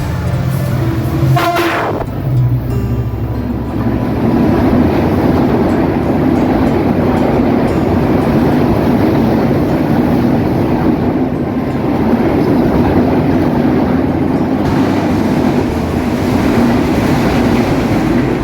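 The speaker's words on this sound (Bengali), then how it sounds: "ছেষট্টি বত্রিশ সিরিজের লোকোমোটিভ নিয়ে ঢাকা থেকে সেরে আসা রাজশাহীগামী সাতশো উনসত্তর ধূমকেতু এক্সপ্রেস আজিমনগর রেল স্টেশনে দুই নম্বর লাইন যে থ্রো পাস করে চলে যাচ্ছে" The Dhaka–Rajshahi Dhumketu Express, hauled by a 6632-series locomotive, passes straight through Azimnagar station on line two, a loud continuous rumble of wheels and carriages with a brief horn-like tone near the start.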